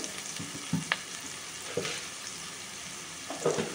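Onions and green chilies frying in coconut oil in a pan, a low steady sizzle with a few brief stirring scrapes, close and fairly quiet.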